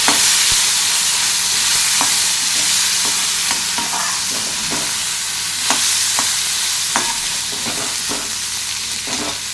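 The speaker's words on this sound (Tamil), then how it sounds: "இதை வேக வச்சு வச்சுட்டு நிலக்கடலையும் போட்டுக்கலாம் நல்லா மிக்ஸ் பண்ணி விட்டுக்கலாம்" Peanuts being stirred into a boiled mixture in a pan for sweet nut kozhukattai or sundal, with steady sizzling and scattered scraping clicks of the spoon throughout, close and fairly loud with no voices.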